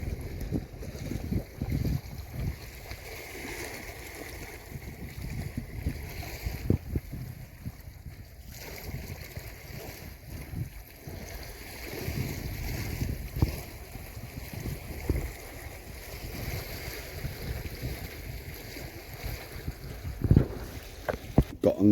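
Wind gusts buffet the microphone while paddleboarding with an umbrella on a river near Las Rías Bajas, Galicia, Spain, a fluctuating low rumble with repeated thumping bursts and water sounds throughout.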